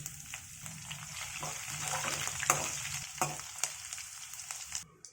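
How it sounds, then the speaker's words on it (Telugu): Spices and curry leaves crackle and sizzle in hot oil, with sharp little pops scattered over a steady frying hiss, close by and fairly quiet. "నూనె వేడి అయినాక పోసు దినుసులు, కరివేపాకు కూడా వేసుకొని చిటపటలాడుతుందా"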